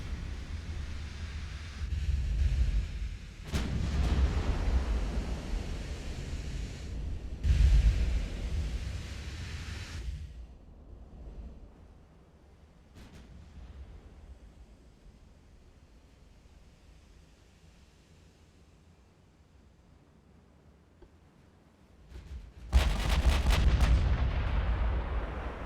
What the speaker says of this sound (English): We are returning fire.